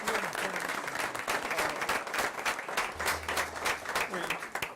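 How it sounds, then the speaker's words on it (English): A crowd at a board meeting claps steadily in sustained, dense applause that holds at a fairly even loudness throughout. "Please give a round of applause"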